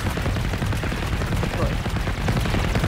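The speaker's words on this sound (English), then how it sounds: "This guy is not stopping shooting, by the way." An enemy in the video game Generation Zero opens up with sustained automatic gunfire, a loud and dense barrage of rapid shots running the whole time with no break.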